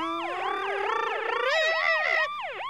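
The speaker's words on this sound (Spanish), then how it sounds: "Creo que el nuevo sonido de mi camioneta es igual a una sirena." A wailing electronic siren sweeps rapidly up and down in overlapping loud tones, close and insistent, with no other sounds.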